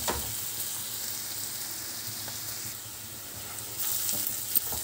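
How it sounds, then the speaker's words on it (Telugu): Chopped onions fry in a pan over medium flame for an egg masala curry, a continuous soft sizzle with light crackles and occasional stirring, moderately quiet and with no voices. "ఉల్లిపాయ ముక్కలు చక్కగా మాడిపోకుండా దగ్గరుండి చక్కగా కలర్ మారే వరకు చక్కగా వేయించుకోండి"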